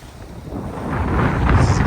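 Wind and waves around a sailing boat under sail with the engine off, a broad rushing roar of wind buffeting the microphone that swells louder toward the end.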